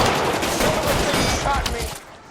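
Steady gunfire in L.A. Noire rattles as a continuous fusillade of overlapping shots, close and fairly loud, before tapering off at the end.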